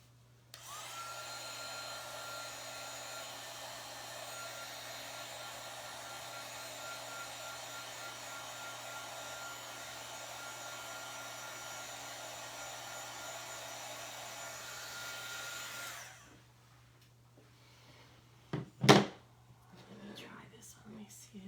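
A heat gun blows steadily for about fifteen seconds as it dries fresh paint, a broad, even airy roar with a low hum beneath, then cuts off, leaving a few close clicks and handling knocks.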